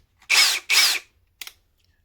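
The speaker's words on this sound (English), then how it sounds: "It's not too loud, but not exactly the quietest drill." A Ryobi 30th Anniversary limited edition compact cordless drill whirs in two short bursts of about half a second each, followed by a brief, fainter third blip. It is fairly loud and close, with no talk.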